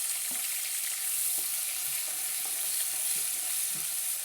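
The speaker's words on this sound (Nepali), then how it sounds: "र अब यो प्याजलाई रातो हुन्जेल भुट्नुपर्ने हुन्छ।" Chopped onions sizzle in hot oil as the base of a chicken gravy masala, giving a steady, dense hiss close to the pan, with a few soft stirring taps underneath.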